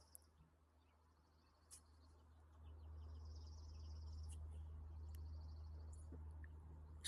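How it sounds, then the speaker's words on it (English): Birds chirping outdoors near a deck on a quiet morning, a few faint, thin high calls spaced apart over a low steady hum that swells midway, no voices. "Sitting out here listening to the birds."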